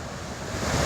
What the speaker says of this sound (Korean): 파도가 부서지는